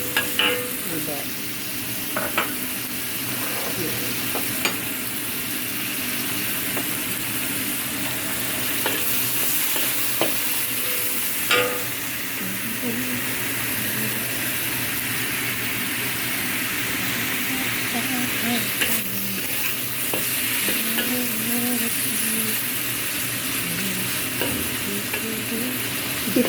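Beef and broccoli stir-frying in a pan, a steady sizzle with repeated scraping stirs and clinks of the utensil, with brief moments of speech over it.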